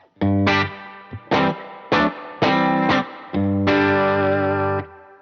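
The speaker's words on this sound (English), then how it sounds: "Also using the spring reverb," Electric guitar with spring reverb, five or six strummed chords with short bright decays, the last one ringing out longer, loud and alone.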